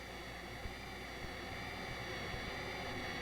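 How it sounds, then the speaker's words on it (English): A synthesizer-filtered jet engine roar holds as a steady, bright, hissing drone with a low rumble and a few faint thumps, alone and fairly quiet. "Let's listen to how this jet noise can be altered when parts of it are filtered or removed."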